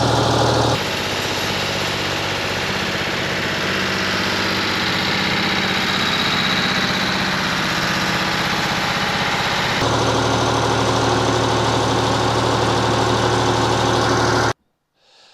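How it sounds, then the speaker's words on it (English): A Ford Dexta 2000 tractor engine idles steadily and loudly at close range, a continuous low chugging rumble that cuts off abruptly at the end. "Henry, my little Ford Dexta 2000 gives me as much pleasure as any of the sports cars"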